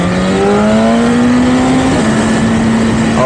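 A BMW S1000RR sport motorcycle engine holds a steady, loud drone close by, its pitch climbing gradually and then dipping briefly around a quick upshift before it settles into a continuous ride.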